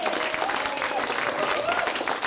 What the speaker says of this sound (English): Can we have a massive round of applause for Mr. Neil Povey